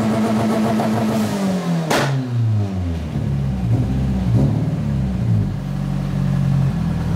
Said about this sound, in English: So we got the car in first gear, do a little blip there